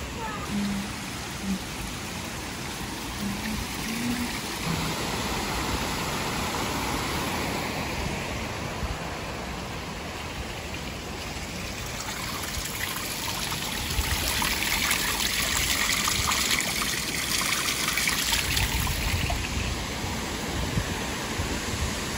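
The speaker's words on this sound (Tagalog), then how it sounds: "And the waterfalls is over there." A waterfall at Arima Onsen in Kobe, Japan, rushes in a steady broadband roar, continuous and fairly close, growing slightly louder toward the end with faint outdoor ambience.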